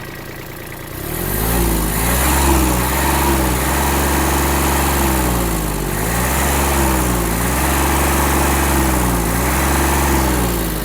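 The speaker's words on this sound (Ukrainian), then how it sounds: "Трактор дуже гарно реагує на акселератор. Миттєво набирає оберти." A Japanese Kubota A-195 mini tractor engine revs repeatedly, close up and loud. The throttle rises and falls in several quick surges over a constant rumbling idle.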